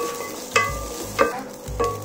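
Grated coconut stirred and sautéed in hot ghee in a pan, a spoon scraping through it in three distinct strokes over a soft, steady sizzle, with no voices.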